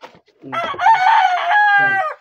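A rooster crows loudly and close by, one long drawn-out call rising and holding before breaking off at the end.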